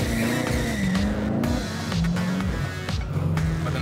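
Chevrolet Corvette sports car on a hot lap around a race track, engine revving loudly up and down through gear changes, with tires squealing and skidding through corners.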